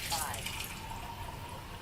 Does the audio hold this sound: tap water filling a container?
yes